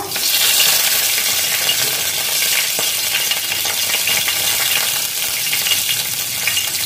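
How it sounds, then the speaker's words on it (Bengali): Dried red chili and a bay leaf sizzle in hot oil, a loud, steady hiss of frying with crackling spatter that holds constant throughout. "এবার আমি এতে দেব একটু শুকনো লঙ্কা, একটা তেজপাতা"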